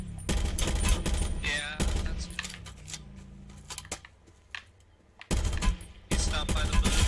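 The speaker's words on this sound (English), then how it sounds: "People are shooting at the dead body." Rapid automatic gunfire from the battle royale game Call of Duty Blackout: loud bursts at the start, a quieter stretch with scattered shots, then heavy firing resumes near the end.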